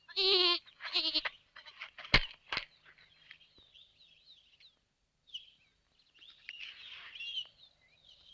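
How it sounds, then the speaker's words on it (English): Goats bleat in a few short, nasal cries near the start, followed by quieter scattered animal calls and thin bird-like chirps against near silence. "There are goats here."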